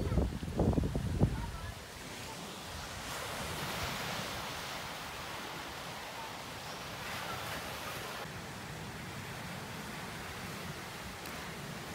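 Ocean waves at Noosa Heads beach wash in with a steady broadband roar, with wind buffeting the microphone and a brief burst of talk at the very start.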